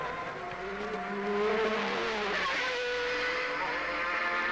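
Porsche sports-prototype race cars of the 1991 World Sportscar Championship blast past at the Mexico Grand Prix, Autódromo Hermanos Rodríguez, engines roaring steadily loud with a rising whine partway through, no voices heard.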